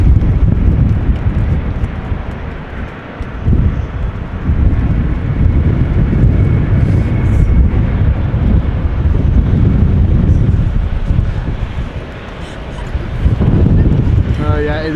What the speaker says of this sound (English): Still windy AF.